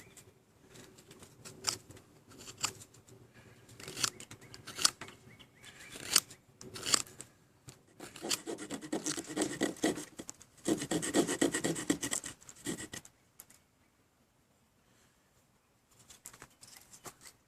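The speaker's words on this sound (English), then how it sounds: "It's too far away from the edge of the board, so I'm going to cut back on it." A Victorinox Fieldmaster knife carves a notch into a pine fire board outdoors, close scraping and rasping strokes in irregular bursts that build to a dense run of shaving before stopping, with a few fainter scrapes after.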